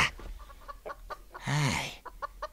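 Chickens clucking close by in short, scattered bursts, with one longer, louder squawking call in the middle, heard over a quiet rural background.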